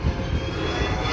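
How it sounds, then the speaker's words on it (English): The engine of an airplane coming in to land as it meets wind shear, a brief, loud, steady roar with a broad rumble. "This landing plane hit wind shear, causing it to almost crash."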